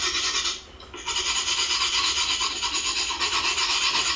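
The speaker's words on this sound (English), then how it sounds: "Sorry about all the scratching." Continuous dry scratching from someone doodling with a pen or pencil, steady and close, briefly pausing near the start before resuming without talk.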